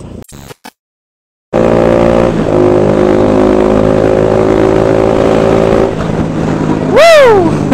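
Motorcycle fitted with an SC Project exhaust holds a loud, steady rev close by for several seconds after a brief gap, then blips up and sweeps back down sharply near the end.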